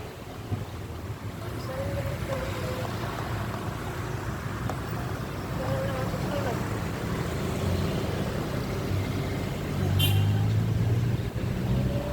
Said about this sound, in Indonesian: Ini untuk pertama kalinya aku naik mobil pickup di Makassar.